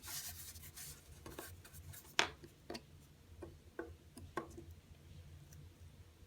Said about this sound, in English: push them together, tape it all the way around